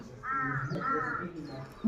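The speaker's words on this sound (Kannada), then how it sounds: "ಕಾಗೆ ಸಿಕ್ತು ಆದರೆ ಕೂಗೋದೆಲ್ಲ ಸ್ವಲ್ಪ ಚೇಂಜು" A crow caws in a few drawn-out, harmonic calls, fairly close and clear, at a village resort in Punakha district, Bhutan, with faint background noise and no speech.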